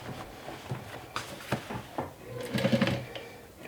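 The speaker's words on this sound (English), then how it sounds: "go ahead and sew the sides with a 1/2 inch seam allowance" A sewing machine stitches a 1/2 inch seam down the sides of a fabric swim tote, a short quiet burst of motor whir and needle rattle among soft handling clicks.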